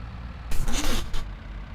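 A farm tractor's engine idles with a low rumble, then a brief hissing, rushing burst of air and mechanical noise rises and fades within about a second, close by.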